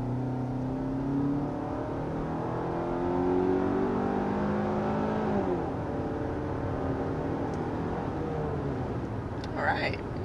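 A 2023 Hyundai Tucson with its standard powertrain accelerates up to 60 mph, the engine note rising steadily in pitch as a continuous drone of road and wind noise builds, heard from inside the cabin.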